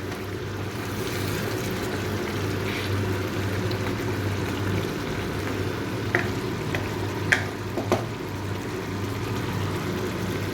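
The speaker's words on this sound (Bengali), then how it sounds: "মাংসের ঢাকাটা একটু খুলে মাংসটা একটু নাড়িয়ে দেব" Mutton in a pot for a mutton kosha sizzles steadily, with a few brief scraping and clinking stirs late on. No voices.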